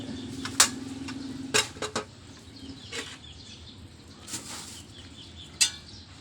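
A sparrow caught in a water bucket flaps its wings in several short, splashy bursts spaced irregularly over a quiet, faint background.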